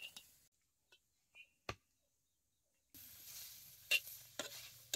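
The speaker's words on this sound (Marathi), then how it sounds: "तवा गरम झालाय, यात कांदा भाजून घेतो" Sliced onion roasts on a hot tava over a wood-fired chulha. Near silence with a few isolated clicks gives way to a faint, steady sizzle, and a couple of sharper crackles rise over it.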